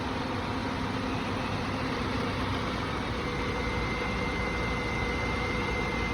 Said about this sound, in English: We can also hear a audible change in how the engine runs as idle increases at a colder temperature.